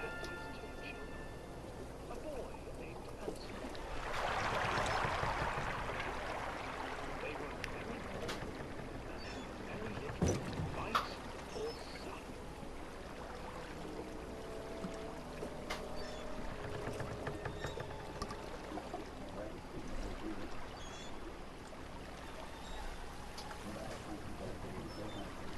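Water laps and splashes softly around a boat in the video game The Park, with a brief louder swirl of water midway, while a person talks over it throughout.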